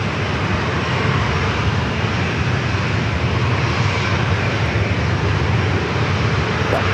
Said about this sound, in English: Next arrival is Thrive, Flight 85, coming in from San Diego. CLD is the airport. Oh, that's Carlsbad. Carlsbad. Cessna Citation CJ3+.